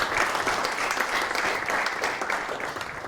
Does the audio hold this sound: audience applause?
yes